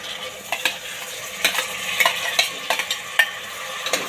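Soaked whole masoor lentils sautéed in onion-tomato masala for pulao, with a continuous sizzle and repeated spoon scrapes and stirring knocks against the pan, close and without talk.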